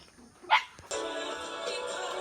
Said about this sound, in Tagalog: Marami tayong aso dito.